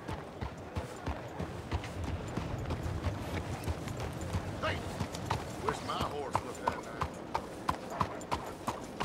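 A horse's hooves clip-clop in steady rhythm in Red Dead Redemption 2, moving at a walk and becoming crisper and more evenly spaced toward the end, beneath continuous game ambience.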